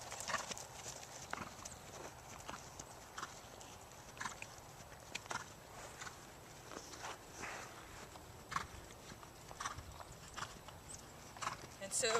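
A horse's hooves clip-clop rhythmically on an arena surface as it moves through its gaits, quiet and steady, with a person talking over the footfalls.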